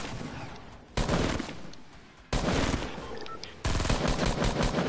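Rapid automatic gunfire in a shooter video game, three separate long bursts of fast repeated shots, loud and close, with short gaps between them.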